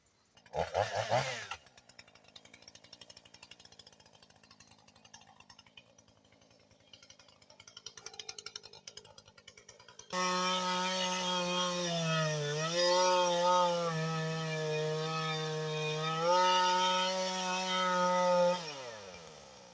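A chainsaw fells a tree on an autumn homestead in northern Portugal. Faint outdoor noise comes first, then a loud, close engine whine runs steadily with brief dips in pitch as the chain bites into the wood.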